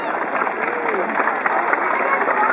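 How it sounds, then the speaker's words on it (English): Spectators applauding at a dolphin show at the Vancouver Aquarium, steady crowd clapping mixed with murmuring voices and a faint background hum. "Let's give a round of applause for that"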